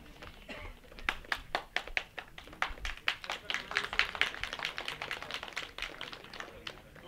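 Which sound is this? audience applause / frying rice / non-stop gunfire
audience applause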